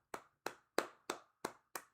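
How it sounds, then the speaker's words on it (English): Bare hands clap six times in an even, unhurried rhythm, each sharp crack close and distinct, with silence between them. "I clapped."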